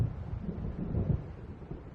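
A low, rolling rumble of thunder from an approaching storm in Alan Wake Remastered, muffled and steady with a slight swell midway, no voices.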